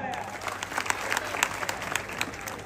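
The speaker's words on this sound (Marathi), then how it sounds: "करा की टाळ्या." A crowd applauding at an open-air wrestling ground (kusti maidan) in Vairag, a dense continuous burst of clapping with sharp individual claps standing out, steady throughout.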